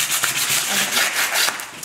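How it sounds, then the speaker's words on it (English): Coarse 80 grit sandpaper rubbing across a cured resin surface, a steady close scratchy scrubbing with quick back-and-forth strokes and no voices. "I'm just going to sand it down here with 80 grit coarse sandpaper."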